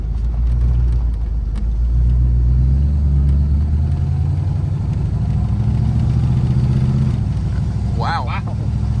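A V8 Ford Mustang engine rumbles and revs while driving, with a gear shift partway through, its low drone rising and then dropping. Someone talks over it near the end.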